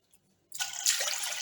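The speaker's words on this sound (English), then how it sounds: "And add in some water." Water pours steadily into a cooking pot for fried rice broth on a stove, starting abruptly after a brief quiet and continuing as a close, bright splashing stream, with no speech.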